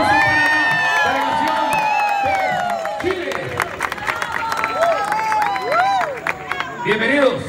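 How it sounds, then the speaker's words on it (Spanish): A Oriflame gold conference audience cheers, whoops and applauds loudly as a crowd, with excited shouts rising over continuous clapping throughout. "Un aplauso."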